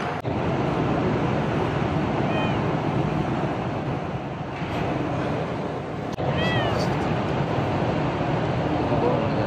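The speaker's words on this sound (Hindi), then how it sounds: "माशाल्लाह खूबसूरत बिल्ली मस्जिद खुबा के अंदर।" A cat inside Quba Mosque in Medina gives a couple of short, faint meows over a steady background hum, with a pause between them.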